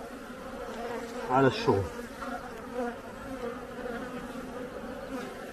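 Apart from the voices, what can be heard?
honeybees in a hive during queen rearing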